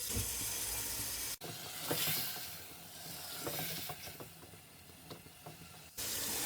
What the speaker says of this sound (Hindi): अब हम चिकन को 5 मिनट के लिए भून लेंगे।